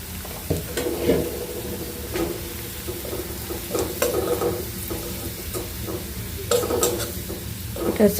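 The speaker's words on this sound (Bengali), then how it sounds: "শাক ভাজি করতেছি দেখুন আগে থেকে সেদ্ধ করে রাখছি এখন হচ্ছে বাগার দিচ্ছি শাকগুলো" Pre-boiled leafy greens frying in a hot pan during tempering, with a steady close sizzle broken by scraping, clattering stirs from a utensil against the pan.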